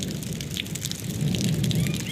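Steady rain patters down in a village during a thunderstorm, a soft, even hiss of drops on surfaces heard from close by with no voices.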